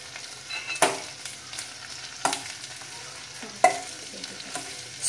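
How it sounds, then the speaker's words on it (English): Chili and okra sauteed in a pan: a spatula scrapes and clanks against the pan in a few sharp strokes over a soft, steady sizzle. No one speaks. "Saute it very well."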